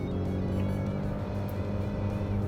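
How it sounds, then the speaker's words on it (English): Citroën C3 Aircross SUV engine revved near 5,000 rpm, a steady, loud, smooth droning hum with sustained low harmonics, heard from inside the cabin without anyone talking. "it doesn't really sound harsh, the engine, even when you rev it"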